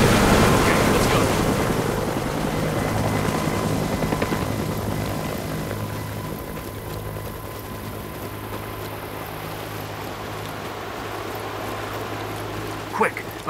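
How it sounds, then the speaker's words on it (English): Helicopters approach in the video game Sniper Ghost Warrior 3, a distant rotor thrum and whine building under ambient outdoor noise, with a brief sharp sound near the end. "Hear that? Helos? Yeah, sounds like they're coming closer."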